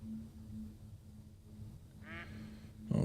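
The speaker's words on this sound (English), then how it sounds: "I hear ducks." Ducks quack in the hunting video game The Hunter: Call of the Wild: a faint outdoor ambience carries one clear quack near the end, followed by a louder burst.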